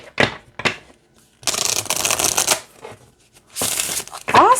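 Riffle shuffles of a small, oddly shaped, flexible card deck, heard as several quick close bursts of fluttering card snaps separated by short pauses, with a faint voice briefly in the background.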